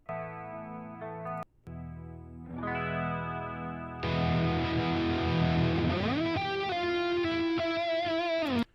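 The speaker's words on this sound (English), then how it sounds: "There's like a modulated lead sound in it like Luke likes to use" An electric guitar plays with a wavering, modulated tone, starting with clean chords and swelling into a fuller sustained lead line with bends.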